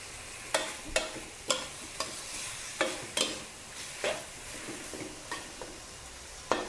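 Squid stir-fried over the highest heat in a wok for a chili-paste and fresh bamboo shoot dish: a steady sizzle with a dozen or so sharp scraping clacks of the spatula at an irregular beat, close and clear, with no voices.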